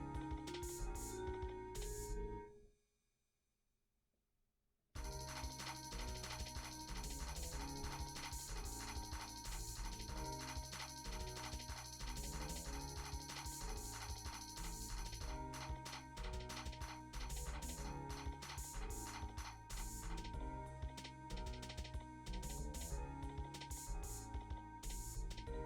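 A sewing machine top stitches a purse made from upcycled men's ties, its needle mechanism running in a steady fast rhythmic clatter, briefly stopping for a couple of seconds before resuming continuously, close and clear.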